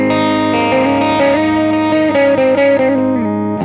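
A heavily distorted electric guitar plays through a Nora distortion pedal and Carbon Copy delay into two amplifiers, sustained chords and melodic lines with a shimmering, echoing delay tail, loud and close.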